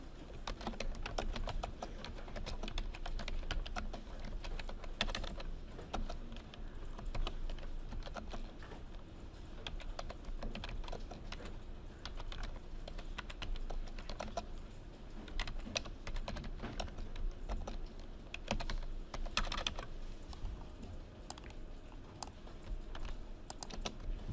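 Rapid typing on a computer keyboard while writing a WordPress post, a steady stream of light, close key clicks and taps with occasional louder strokes, heard alone against a quiet background.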